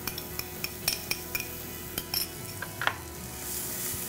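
Minced white onions and garlic are stirred in a pan with a utensil, producing sharp scattered clinks and scrapes over a soft sizzle, fairly quiet and with no talking.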